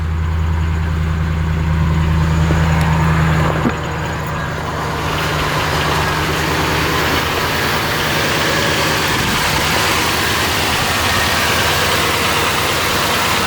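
A 1999 Ford F-150 engine idles steadily in neutral during a radiator flush, a low, even rumble that runs throughout with a brief shift in tone early on.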